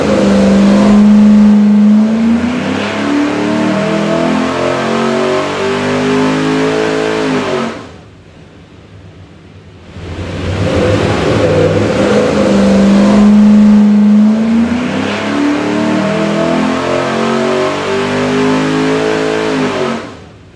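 A 427 cubic inch Ford Windsor V8, run by a Holley Terminator X ECU, roars on a dyno through two long, loud wide-open pulls from low to high RPM, with a brief quieter drop between them.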